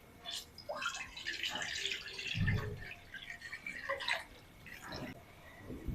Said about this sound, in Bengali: কড়াই দিয়ে দিচ্ছি পানি,